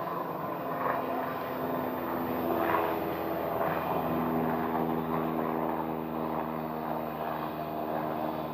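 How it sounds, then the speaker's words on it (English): A small flight school propeller plane doing a touch and go landing at a Scottsdale airfield, its steady engine drone humming continuously at moderate distance, with no clear talk. "Another view of the flight school aircraft making another touch and go landing."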